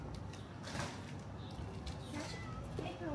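A cat meows a few times indoors, fairly faint and set back in the room, mixed with background clatter and noise.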